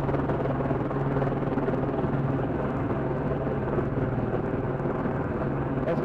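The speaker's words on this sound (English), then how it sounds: "That's a police chopper above us," A white and black police helicopter flying overhead in Los Angeles gives a continuous, even rotor drone, moderately loud and unbroken, with a voice faintly present beneath it.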